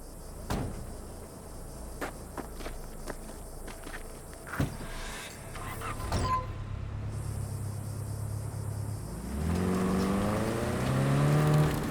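Car in Cyberpunk 2077 on PS5: door clunks and sharp clicks, then an engine starting and a low revving hum that rises toward the end, fairly quiet overall.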